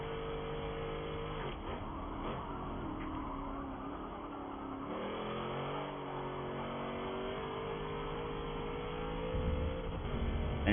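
A race car engine in a racing video game, a Class A leaderboard car, runs steadily with a droning hum and shifting pitch as it accelerates and changes gear, with no talk over it.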